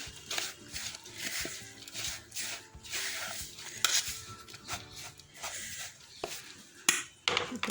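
A spoon stirs and scrapes through a tikki mixture in a bowl, with irregular clinks and soft rubbing, fairly close and moderately loud.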